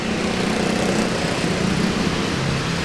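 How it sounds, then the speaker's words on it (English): Steady, continuous roar of nearby road traffic in District 3, Saigon, Vietnam, with engines humming throughout, no gaps or talking. "Traffic is crazy on this road."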